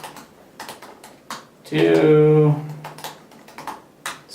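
Rapid, light clicks of typing on a computer keyboard, steady and close, running under a voice talking, with a brief louder tonal burst in the middle.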